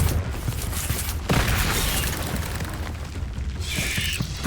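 A Confringo blast spell from the Hogwarts Legacy video game erupts in dense booming, crackling bursts, loud and close, with a rattling, mechanical texture and a brighter hiss near the end, no talk over it.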